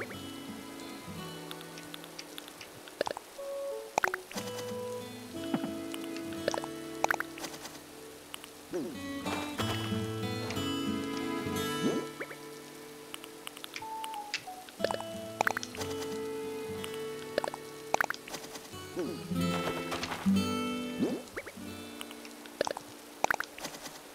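Rain patters steadily in a farming video game, soft dripping drops running on under light game music, with no one speaking.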